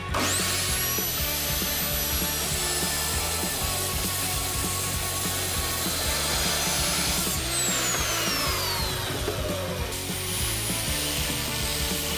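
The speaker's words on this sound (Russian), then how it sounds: "Пройдем фрезером, немножко болгаркой" A router and then an angle grinder working a 140 by 35 wooden board, a loud, steady high-pitched whine with shifting pitch as the tools bite into the wood, continuous and close with no talk.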